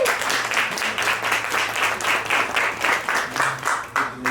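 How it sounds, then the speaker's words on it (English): A crowd claps steadily in dense, even applause that holds throughout without letting up. "let's give her a round of applause as she comes up"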